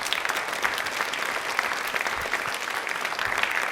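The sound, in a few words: audience applause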